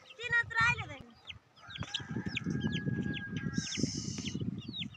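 Chickens just let out of their coop in a rural herding household cluck and squawk in a busy flurry, with a rooster crowing, while people talk nearby.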